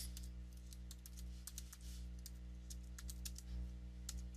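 Computer keyboard being typed on, quick irregular clusters of crisp key clicks, faint and close, over a low steady electrical hum.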